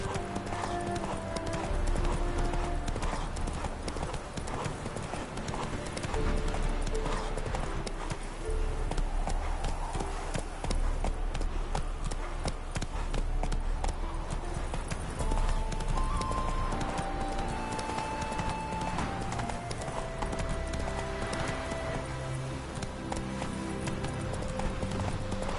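Roach the horse trots along in The Witcher 3, its hooves clip-clopping in a steady, continuous rhythm that runs the whole way through, layered over background music and ambient game sound.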